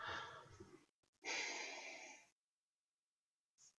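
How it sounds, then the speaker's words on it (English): A person yawns during a late-night gaming session, a long drawn breathy exhale followed by a second sustained airy yawn-like breath, then silence and a faint brief sound at the end. "I keep yawning."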